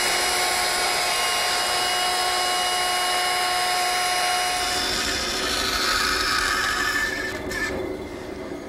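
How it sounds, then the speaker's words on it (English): A router fitted with a 1/4 inch slot cutting bit grooves the inside edge of a wooden tray frame, a loud continuous high-pitched whine with steady tones that shifts and eases slightly near the end. "after changing to a 1/4 inch slot cutting bit, which will give me a groove about 3/8 inch deep, I'm going to run a groove around the inside edge"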